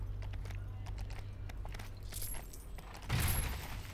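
Horse hooves in the LEGO Worlds video game, a steady run of quiet clip-clop steps followed by a louder clattering burst near the end.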